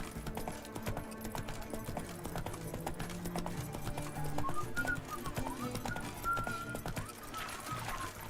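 Hoofbeats of Geralt's horse Roach trotting in The Witcher 3, a steady clip-clop rhythm carried over a bed of game music and ambience, with a few whistle-like tones drifting in near the end.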